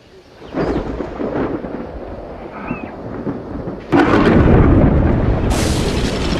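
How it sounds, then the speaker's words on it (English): A thunderstorm over African bush: a low rumbling roll builds, then a loud, broad crack of thunder bursts in and keeps roaring close by, with rain-like hiss underneath and no voices. "The storm ignites the bush"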